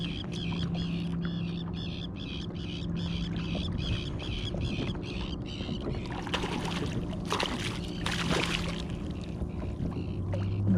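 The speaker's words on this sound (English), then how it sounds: "Those are Arctic terns." Repeated sharp, high Arctic tern calls in a quick regular series over steady boat engine hum and water noise while fishing in a shallow bay, fairly distant.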